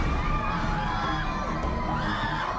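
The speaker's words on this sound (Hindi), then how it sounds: "दरबार में चीख पुकार और तेज हो गई।" A crowd screaming and shouting at a packed religious gathering, dense and loud overlapping yells and cries that continue without a break.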